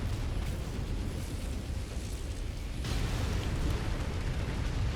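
Missiles from a double SRM-6 launcher fire in the MechWarrior 5 Mercenaries mech combat game, a dense, continuous rumbling barrage of explosions that swells louder partway through, with no talk.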